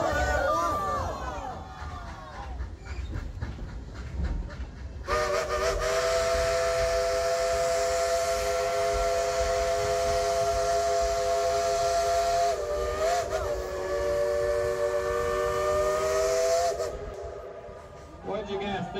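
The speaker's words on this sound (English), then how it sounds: "let's tell that engineer to blow the whistle" A crowd shouts together, then a loud, sustained steam train whistle blows for about twelve seconds at Dollywood, dips briefly mid-blast, and fades out.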